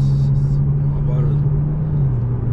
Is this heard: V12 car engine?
yes